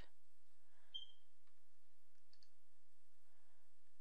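A few soft, isolated computer mouse clicks spaced apart over a quiet background hum while modding a Call of Duty: World at War Zombies game save, no talking.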